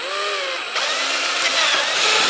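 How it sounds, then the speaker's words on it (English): A power drill bores a quarter-inch pilot hole while building a grow light: a loud, steady whine rises in pitch over about two seconds, close and alone without talk. "I do suggest pre-drilling these though to a quarter inch before you start to do anything bigger than"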